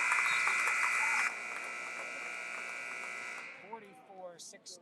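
Basketball game buzzer sounding at the end of a quarter in a high school gym, a loud steady electronic tone that drops in level partway through and fades out, followed by crowd noise and voices.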